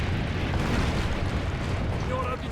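Cannon blasts in Assassin's Creed: Brotherhood, a dense, continuous roar of booming explosions with heavy low rumble throughout, loud and close.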